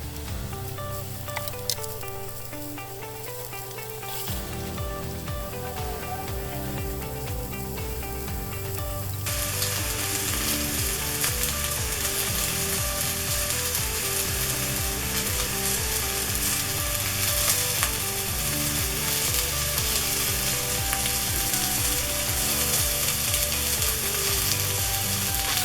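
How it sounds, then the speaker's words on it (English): Chestnut mushrooms sweat in a Dutch oven with a steady, close sizzle that swells louder partway through, with faint stirring scrapes and clinks. "We're just going to sweat them down a little bit."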